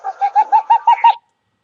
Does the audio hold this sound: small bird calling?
yes